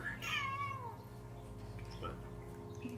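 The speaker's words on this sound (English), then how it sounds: "this cat is so damn cute" A cat gives a clear, drawn-out meow near the start, followed by a softer second call, set against a low steady background hum.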